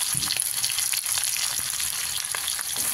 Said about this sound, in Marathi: कांदा सुद्धा लाल होईपर्यंत परतून घेऊ याला